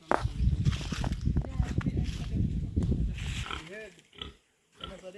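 A pig in the Jamaican countryside of St Elizabeth grunts and snorts in a burst of rough low sounds, then several shorter grunts follow with brief pauses, fairly close and loud.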